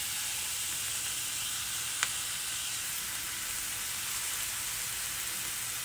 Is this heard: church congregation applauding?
no